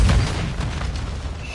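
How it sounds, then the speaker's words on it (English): A grenade explosion in Call of Duty Modern Warfare 2 multiplayer: one loud, heavy boom at the start that settles into a rumbling roar and stays loud through the clip. "Throwing a nade."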